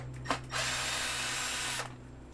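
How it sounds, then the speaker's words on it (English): Power drill backing screws out of a vacuum appliance under repair, heard as a brief close whir and then a steady high-pitched spin of about a second before it stops. "So let's get these screws out."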